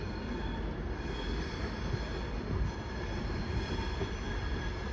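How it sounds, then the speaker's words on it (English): A train passes on the fast line at Crewe station on the West Coast Main Line, its wheels and carriages giving a steady, loud rumble with faint squeal throughout, with no voices. "I can get another good view of trains passing on the fast line as well."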